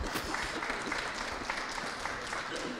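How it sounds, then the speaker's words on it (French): An audience at a crime-fiction book festival applauds author Michel Bussi, a brief even patter of many hands clapping, fairly quiet and heard from a distance. "On peut applaudir Monsieur Bussy"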